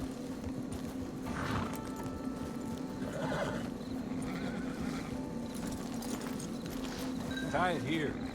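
In Red Dead Online, a horse whinnies and snorts while hooves clip-clop steadily nearby at a camp, with people talking over the sounds.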